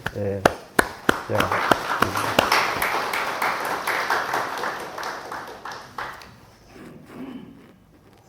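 A church congregation applauds after a choir performance, starting with a few sharp, separate claps that swell into dense, sustained clapping before thinning out and fading near the end.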